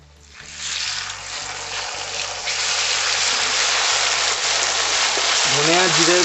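Water splashed into a hot pan of frying ground coriander and cumin paste bursts into a loud, steady hiss and crackle that swells and keeps going, with a voice speaking briefly at the end.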